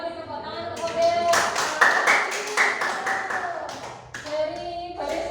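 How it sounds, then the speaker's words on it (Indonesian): Classroom clapping for a student model in a teaching session, scattered hand claps from a group of children mixed with chatter and a prominent voice over the top. "beri tepuk tangan untuk model"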